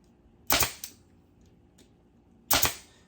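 A staple is driven across a gap in a shutter screen for projection mapping: two sharp, close snapping clacks about two seconds apart, with near silence between them.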